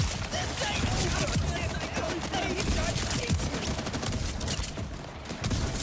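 Dense, continuous gunfire from the video game Borderlands 4 rattles in rapid bursts that blend into a loud, busy wash of shots and effects lasting several seconds.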